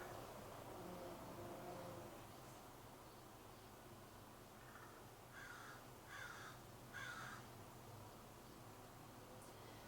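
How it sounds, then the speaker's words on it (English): Several crows caw in short bursts at a distance over a quiet, hissy outdoor background. "Can you hear the crows"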